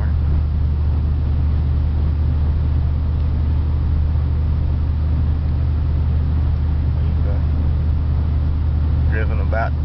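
Wood-gas powered car cruising at about 60 miles per hour, a steady low engine and road drone filling the whole stretch from inside the cabin, with a voice talking over it.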